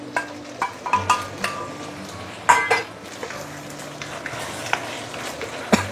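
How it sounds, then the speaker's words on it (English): A thick, freshly thickened sauce is stirred in a wok, giving soft scraping and sizzling with scattered clinks of utensil on metal, a sharper clatter near the middle and another near the end. "give it a few stir."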